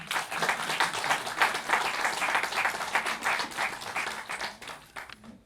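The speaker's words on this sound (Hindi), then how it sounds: "तो तालियों की एक आवाज़ तो आनी चाहिए" An audience applauds at a Hindi memorial-trust anniversary function, a dense, steady wash of many hands clapping at moderate distance for several seconds, thinning slightly toward the end.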